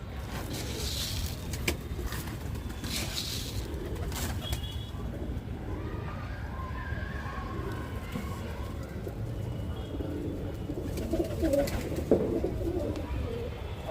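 Pigeons coo softly while pecking at mixed feed, low murmuring calls and scattered wing flutters blending into a steady outdoor background hum.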